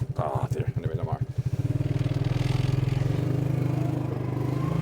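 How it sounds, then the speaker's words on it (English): Motorbike or quad engine idling and running steadily close by in storm-damaged woodland with sawdust around, a continuous low throbbing drone that follows a short stretch of someone talking. "I hope you can hear me with this motorbike or this quad going"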